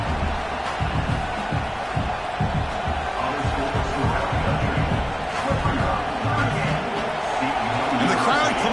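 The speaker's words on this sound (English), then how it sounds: "And the crowd coming to life here" A video game football stadium crowd roars and cheers as the defense holds near the red zone, a broad, steady wash of noise running under a commentator's continuous play-by-play talk.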